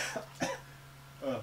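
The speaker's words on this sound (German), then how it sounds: "Hust. Hust?" Two or three short, dry coughs from one person at fairly close range, separated by brief pauses, with a low steady hum underneath.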